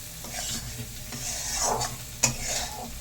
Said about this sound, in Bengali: ভাজার পরে দেখতে পাচ্ছ মশলা দিয়ে নাড়ছে